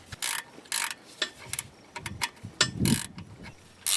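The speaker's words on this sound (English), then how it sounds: "With the bolts now tightened, it's time to do surface prep and weld." Bolts on a truck transmission crossmember mounted to the frame are tightened with a ratchet, giving several short bursts of clicking separated by pauses, close and fairly loud, alongside a few metallic knocks.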